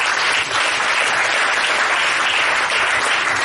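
A church congregation gives loud, dense, continuous applause that fills the hall and holds steady at full strength without a break.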